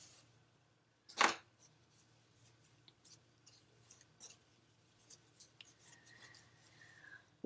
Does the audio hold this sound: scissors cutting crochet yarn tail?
yes